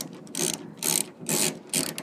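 A ratchet on an extender turns a 10 mm bolt inside the door of a 1999 Toyota Sienna, four close, crisp bursts of rapid clicking separated by short pauses.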